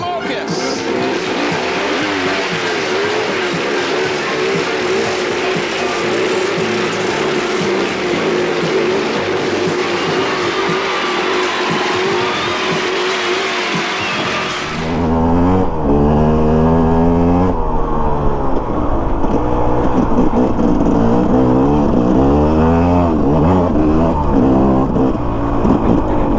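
A KTM dirt bike on hard-pack dirt: a loud, steady roar for the first half, then the engine revs up and down in repeated rising and falling sweeps, close and prominent.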